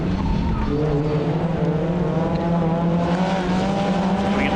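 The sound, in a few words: Suzuki Swift rallycross cars racing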